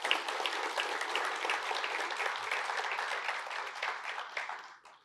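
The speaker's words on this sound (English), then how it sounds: "A big round of applause for our guests." Steady audience applause fills a security conference hall after a talk, a dense wash of many hands clapping at even loudness before tapering off at the end.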